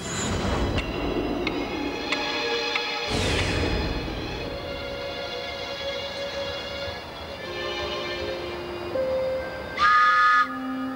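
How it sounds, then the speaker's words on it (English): London Underground Northern Line train pulling into Morden at the end of the line at night, a steady rumble with metallic wheel squeals and whines rising and falling. "At the end of the line in Morden, the last train is pulling in for the night."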